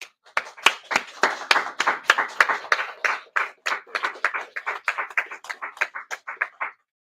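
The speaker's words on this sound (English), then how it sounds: "So I would like to applaud them." Sparse clapping at a press conference, a few people producing distinct, irregular claps that become quicker and softer before stopping, with silence afterward.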